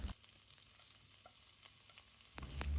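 Garlic, chopped onion and mushrooms fry quietly in a little oil in a pan, giving a soft, low sizzle with a few light stirring clinks and a louder clatter near the end.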